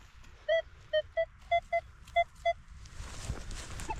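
A Deus metal detector sounds seven short, clear electronic beeps in an irregular rhythm while sweeping a field, followed by faint rustling and handling noise.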